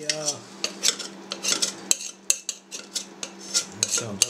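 Spoon scraping leftover homemade processed cheese from a saucepan, a rapid series of close metallic clinks and scrapes in an irregular rhythm.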